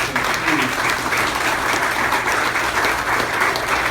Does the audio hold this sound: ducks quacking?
no